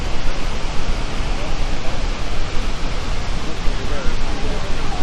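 Snoqualmie Falls sends up a dense, steady roar of falling white water, loud and close, holding an even level throughout with faint voices mixed in.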